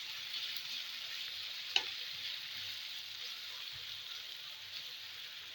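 Chicken shawarma fries in a pan with a steady bright sizzle, while a utensil stirs and scrapes once against the pan; close and continuous, with no talking.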